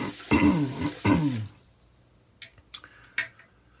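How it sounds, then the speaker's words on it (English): Two harsh, guttural throat clearings close to the mic, followed by a few faint clinks of dishes or cutlery in a quiet room. "Sorry for the clearing my throat."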